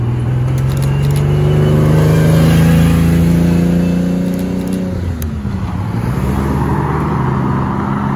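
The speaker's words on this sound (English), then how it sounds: "GR4 rally car." A Toyota GR4 rally car arriving at a supercar meet gives one loud engine rev that swells and fades as it passes nearby, followed by lower idling and traffic.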